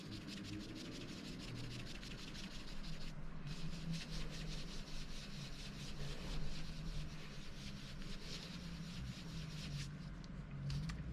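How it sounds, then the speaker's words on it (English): Old plastic parts are sanded down by hand with steady, quiet rubbing and scraping strokes that continue for several seconds, close to the microphone with no talking. "If we want to whiten these areas a little, then we can sand it down."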